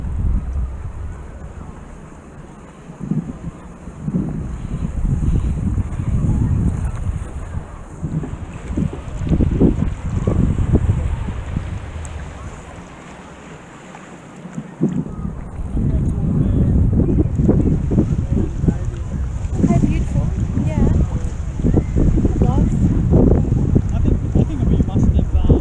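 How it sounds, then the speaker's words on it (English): Kayak paddling on Middle Harbour, with rhythmic paddle strokes and water splashes close by, mixed with steady wind buffeting the microphone and a quieter stretch midway. "this is a long paddling sequence as well"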